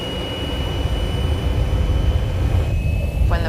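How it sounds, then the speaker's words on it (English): Airplane taking off from a runway, a loud, steady roar of jet engines with heavy low rumble and a thin high whine, sustained throughout. "As the plane begins to lift off the runway, the cabin starts to shake violently."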